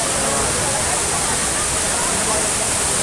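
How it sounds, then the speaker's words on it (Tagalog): Water pours heavily down Majayjay (Makaibay) Falls from the mountain, a loud, steady, broadband roar with no break, close and dense, filling the whole clip without voices. "Mabagsak yung tubig, papunta dito."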